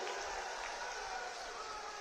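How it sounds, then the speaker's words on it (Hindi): Crowd at a Bihar election rally clapping steadily, a dense continuous wash of applause with no clear pauses, fairly distant and evenly loud throughout. "जोर से ताली बजाइए जरा"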